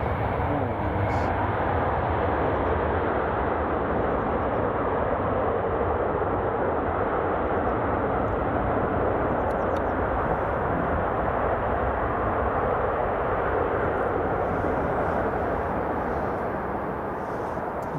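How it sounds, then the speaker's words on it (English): An airliner lands at Newcastle International Airport, a loud, steady broadband roar of engine and rushing air that holds for the whole stretch with little change. "Beautiful landing that."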